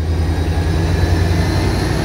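A double-deck, diesel-hauled local commuter train arriving at a Chicago station makes a loud, steady low rumble with a faint whine, sustained and close throughout.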